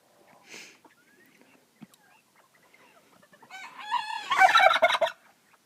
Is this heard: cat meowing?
no